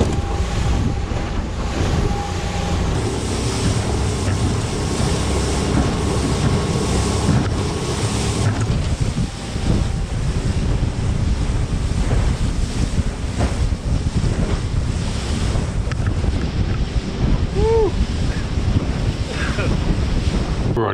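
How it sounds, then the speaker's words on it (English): Strong wind buffets the microphone at a fishing shore while waves wash in steadily, a loud continuous roar with surf surges throughout. "It's really windy, I regret staying out here."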